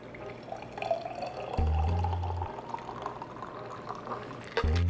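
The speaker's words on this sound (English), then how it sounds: "Take off the top, strain it in your cup, like so." Ginger tangerine mocktail pouring through a strainer into a cup, a steady liquid trickle and splash with a few drips and clinks of the shaker lid.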